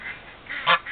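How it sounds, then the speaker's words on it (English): An African goose gives a short, brief honk, preceded by faint softer calls, fairly close and alone. "she is an African goose"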